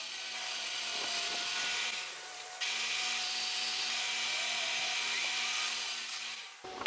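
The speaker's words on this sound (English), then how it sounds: "I can use the drill press again with that Forstner bit to drill out some holes" A drill press with a Forstner bit bores holes in wood, giving a steady whirring motor hum with a faint grinding rub that runs almost continuously, pausing briefly once, fairly quiet and close.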